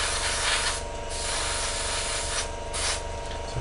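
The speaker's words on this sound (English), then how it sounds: "thing with Alclads in spray, make sure you're well ventilated, and just build it up slowly" Airbrush spraying Alclad metallic paint onto the engine parts of an Academy 1/48 Raptor model kit: a steady, close hiss of air and paint that swells and eases in short bursts, with no talking.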